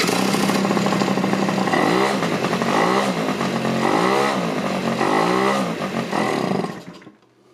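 A 1988 Honda Elite scooter with no oil in the engine starts up and runs loud and close, its engine revving and rumbling unevenly for several seconds before it dies and goes quiet.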